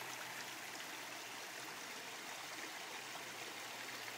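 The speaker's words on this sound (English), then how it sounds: "It's so soothing listening to the babbling brook here below." A small babbling brook flows below a green, leafy spot, giving a steady, even rush of water that fills the clip without breaks or voices.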